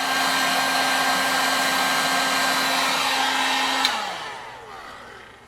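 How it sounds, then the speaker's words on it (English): A heat gun blows with a steady, loud roar for close to four seconds, then cuts off and winds down quickly, with only faint room noise remaining. It is used while cleaning a Fagor halogen oven. "now I got a heat gun that's too hot and I gotta move it so I can keep working"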